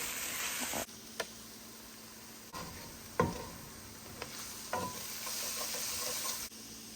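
Potato filling for egg chops frying in a pan while a spatula stirs it in a few scattered knocks and scrapes over a continuous soft sizzle, heard close in a home kitchen with no talk.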